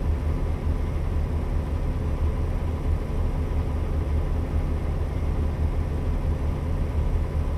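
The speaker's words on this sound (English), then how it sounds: "drive ATS, listen to the sound of the engine" Truck engine droning steadily at highway speed in American Truck Simulator, a constant low rumble with no talking.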